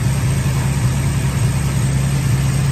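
A muscle car with hideaway headlights, a new carburetor and an electric choke idles steadily, with a smooth low rumble that holds even and close throughout and no talk over it.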